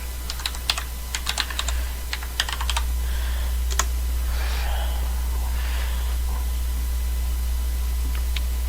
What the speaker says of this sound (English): all you have to do is type digchat.net into your browser